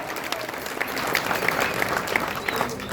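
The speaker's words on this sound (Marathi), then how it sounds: "जरा टाळ्या होत होत्या त्या पंचासाठी सुद्धा" A crowd at a Kesari kushti wrestling bout applauds the referee with a steady, moderately loud patter of clapping that holds for the whole stretch.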